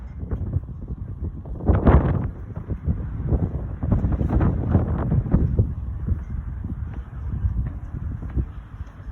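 A high wind storm in Lewis Center, Ohio roars and buffets the microphone in loud, surging gusts with one especially strong blast, continuous throughout.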